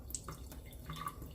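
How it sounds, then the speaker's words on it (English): Water slowly dripping from a kitchen sink tap, faint scattered drips and trickles, quiet and close, with no talking. "We're just gonna cut our water so that it's kind of slowly dripping."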